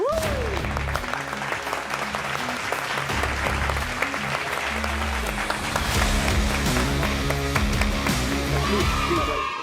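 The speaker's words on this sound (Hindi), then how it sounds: "आपकी बहुत सारी तालियों में लेट्स वेलकम ख्वाजा नवीद अहमद।" Studio audience applauding to welcome a guest onto a talk show, with sustained clapping mixed under music and other studio sound throughout.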